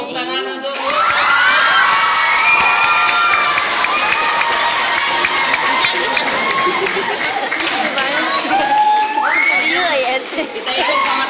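Loud audience applause and cheering at an Islamic school recitation contest of the Alfiyah Ibnu Malik text, with many children shouting and whooping over dense continuous clapping throughout.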